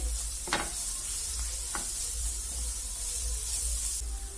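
Spices get stirred and mixed in a pan over steady sizzling while samosa filling is prepared, with a few sharp scraping strokes of a spoon near the start.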